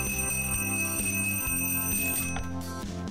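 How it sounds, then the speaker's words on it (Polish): An alarm clock rings in a bedroom, a loud, close, rapid metallic bell clatter repeating in steady bursts throughout, with no voices. "To budzik w pokoju Lucy."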